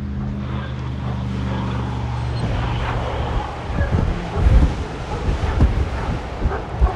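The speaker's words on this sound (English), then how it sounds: "the wind is high enough that it could probably lift her up off the ground" Strong outdoor wind buffets the microphone during a dog training session, a constant rumbling roar that swells into heavier, louder gusts toward the end.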